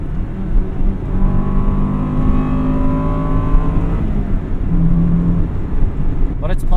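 A 1998 Acura Integra Type R engine revs close up from inside the cabin, its rising tone climbing over several seconds and then dropping back to a steady drone, with a voice partly audible over it.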